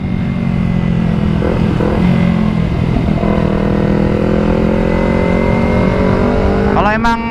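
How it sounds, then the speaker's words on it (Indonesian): Kawasaki Z250 motorcycle engine revving steadily and loudly throughout, its drone sustained with a sharper rev rising near the end, with a voice talking over it. "malah jadi kayak geber-geber Z250 ini"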